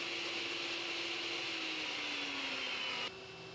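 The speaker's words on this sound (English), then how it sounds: "So yeah, I gotta continue chopping up this wood," Power tool cutting wood for a Minnesota Vikings charcuterie board, a loud steady whine with a slowly falling pitch that drops abruptly to a quieter hum near the end.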